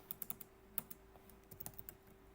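Quiet, close keystrokes on a computer keyboard, a quick burst of several taps followed by a few more scattered presses.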